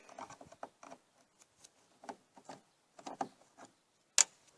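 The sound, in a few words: Phillips head screwdriver removing Jeep Cherokee license plate light screws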